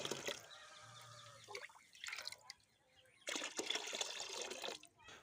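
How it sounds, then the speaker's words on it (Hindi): Jeevamrit solution is stirred into water in a bucket, giving intermittent splashing and sloshing sounds in short bursts separated by quieter gaps. "घोल को अच्छी तरह से मिला लेना है।"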